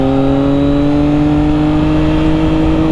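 A Triumph Daytona 660 motorcycle engine runs at a steady, loud drone while riding in the lower rev range, holding around 7,000 RPM at about 40 mph with no talk over it.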